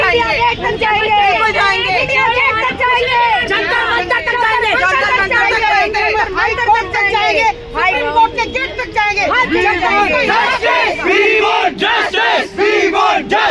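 Large crowd of protesters at a demonstration, a loud dense mass of overlapping voices and shouts that carries on without pause, close and chaotic.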